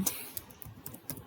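Quick, light clicking of keys as someone types on a computer keyboard, several close, crisp taps in an uneven rhythm.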